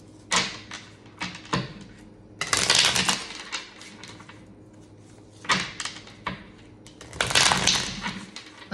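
Tarot cards being shuffled close up, heard as several separate bursts of crisp riffling and slapping, spaced a few seconds apart with quieter handling between them.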